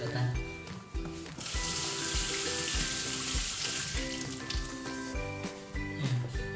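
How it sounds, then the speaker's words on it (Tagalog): Potatoes washed under running tap water while cooking, a steady hiss of flowing water with clinks and handling, moderately close, background music under it. "Hugasan muna natin pero hindi ko nababalatan."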